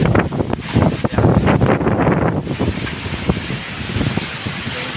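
Strong wind from Typhoon Paeng in Bicol with heavy rain, roaring and buffeting hard against the microphone in loud gusts that ease into a steadier rush.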